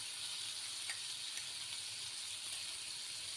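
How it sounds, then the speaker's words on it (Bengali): Potatoes frying in oil give off a soft, steady sizzling hiss with a few faint crackles, close but quiet throughout. "দিয়ে আলুগুলো ফ্রাই করে নেব"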